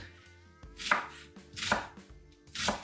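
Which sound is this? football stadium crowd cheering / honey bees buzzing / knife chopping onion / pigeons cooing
knife chopping onion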